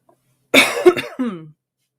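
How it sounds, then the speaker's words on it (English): Two harsh, loud coughs close to the mic in quick succession, the second ending in a short voiced rasp, surrounded by silence. "every now and then I might cough or have to clear my throat"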